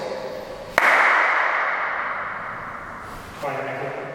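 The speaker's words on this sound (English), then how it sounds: "just wanted to show you guys a quick clap test" A single sharp hand clap in an empty, untreated room, followed by a long ringing reverberant tail that slowly decays, then a second fainter sound near the end.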